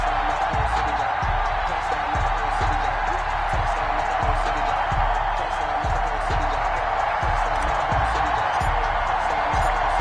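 Stadium crowd roaring in an NFL football video game before a Green Bay Packers versus Chicago Bears matchup, a steady loud wash of cheering with repeated thumping beats underneath throughout.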